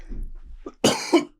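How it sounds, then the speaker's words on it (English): A single harsh cough bursts out close to the microphone after a brief throat noise, then fades quickly into quiet. "That was a bad cough."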